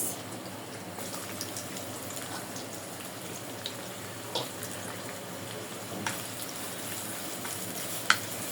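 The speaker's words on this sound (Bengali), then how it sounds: "পেঁয়াজ দিয়ে একটু লাল লাল করে ভেজে নেব" Onions fry in oil for a coconut chicken curry, giving a steady, moderately quiet sizzle with occasional small pops and crackles throughout.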